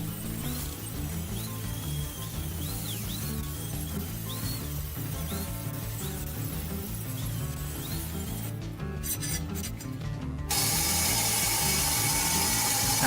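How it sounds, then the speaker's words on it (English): Steady mechanical grinding on a desk build with oak, a continuous rasping, ratchet-like whir at even loudness throughout, getting a little louder and harsher near the end, with no voices. "And more grinding."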